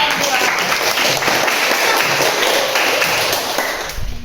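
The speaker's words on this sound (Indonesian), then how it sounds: "Beri aplaus untuk kelompok" A classroom of students applauds a presenting group, steady dense clapping that fills the room and tapers off near the end, with voices mixed in.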